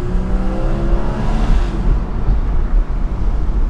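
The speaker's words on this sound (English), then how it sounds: "the upshifts are nothing crazy, but these downshifts, woo!" Base-model Porsche 981 Boxster engine on PDK downshifts: a loud, close droning engine note with rising and falling tones and blips, under steady wind noise inside the moving car.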